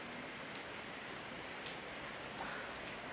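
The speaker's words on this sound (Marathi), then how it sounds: "तर बघताय की हा तरी पाऊस जो आहे ना तो मंद गतीचा आहे, एकदम जोरात आलेला नाही." Gentle, slow monsoon rain falls in a Konkan village near Chiplun, a faint, steady wash of patter with a few soft drips and no voices.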